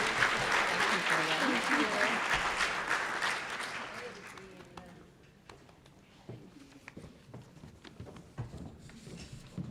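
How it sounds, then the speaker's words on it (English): Audience applause at a chamber of commerce awards dinner in Lawrence County, Ohio, a full round of clapping that swells then thins out to scattered claps and faint room noise. "Can we give a special round of applause to Shirley Dyer?"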